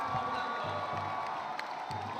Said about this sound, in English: The Saigon Heat crowd giving their players a standing ovation.